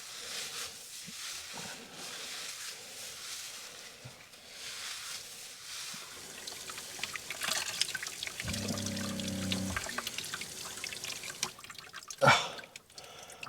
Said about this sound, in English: I'm gonna take a nice head shower, wash my hair too